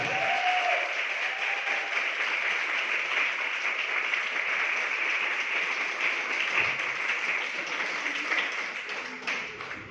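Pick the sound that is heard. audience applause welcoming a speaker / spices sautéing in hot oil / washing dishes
audience applause welcoming a speaker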